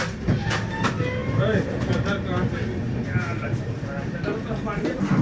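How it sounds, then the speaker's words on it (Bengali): The Himgiri Express train pulling out of Howrah station, with a rumbling rolling noise and rhythmic clacking of the carriages heard from inside, while people talk over it. "আমাদের ট্রেন হাওড়া থেকে ছেড়ে চলে যাচ্ছে"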